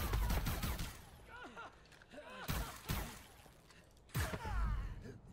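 An assault rifle in Far Cry 5 fires a rapid burst, then further bursts come in short clusters between quieter stretches. Whooshing and chirping game effects are layered over the shots.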